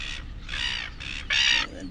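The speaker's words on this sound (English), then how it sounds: "we have a seagull colony here, and the little baby chicks" Seagulls at a nesting colony on a hill at Phillip Island, Australia, giving a few loud, harsh, close calls in short bursts, the last one the strongest.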